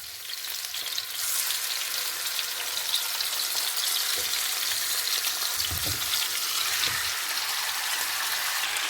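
Masala-marinated chicken sizzling in a pan, a loud, steady hiss of frying fat with occasional soft stirring knocks, close up and continuous with no speech.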